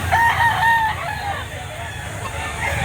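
A rooster crows nearby, a drawn-out call rising over a constant background of farm noise and distant birds.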